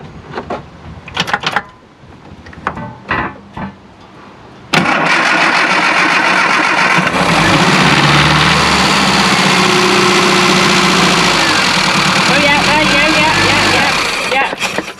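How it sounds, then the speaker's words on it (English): A classic Mini Clubman Estate engine cranks and catches a few seconds in, then settles into a loud, steady idle close by, after some brief clicks and handling noises at the start. "we're going to go for the first start now, so let's see if we get some fuel"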